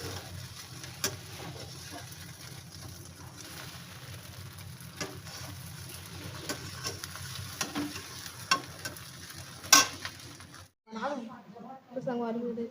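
Steady oily sizzling and crackle of spices frying in a pan, with occasional stirring clinks, then a short burst of nearby talk at the end.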